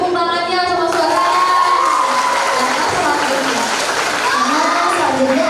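High school students at a school performance event in Palembang clap and cheer loudly, with a dense crowd roar and shrill shouting throughout and a brief high tone near the start.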